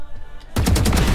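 Loud rapid automatic gunfire from a video game bursts in abruptly after a quiet moment, a dense, close string of shots that runs to the end.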